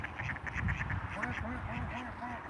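A domestic duck at a house quacks repeatedly and nearby in a quick series of nasal calls, mixed with people talking in the background.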